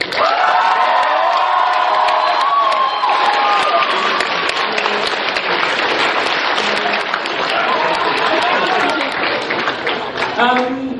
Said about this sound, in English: Okay, big round of applause for Deadpool.